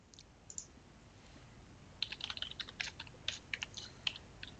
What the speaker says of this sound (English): I'm going to type in this temporary address